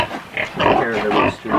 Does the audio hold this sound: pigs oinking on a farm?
yes